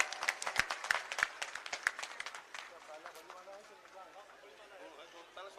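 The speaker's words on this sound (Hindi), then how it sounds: "जोरदार ताली बजाकर स्वागत करो," Clapping at an outdoor political rally for BSP leader Akash Anand in Nagina: several sharp, rhythmic claps up front, then fading into a murmur of crowd chatter, all fairly distant.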